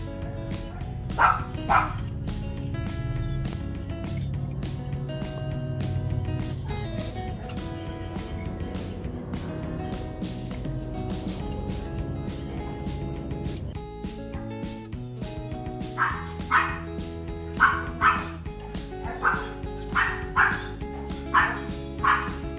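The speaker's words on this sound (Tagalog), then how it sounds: "Pasensya na po kayo sa kahol ng aking mga aso." Several dogs at a house bark over a steady tonal background, with sharp yips and barks that cluster into a rapid, repeated burst in the second half.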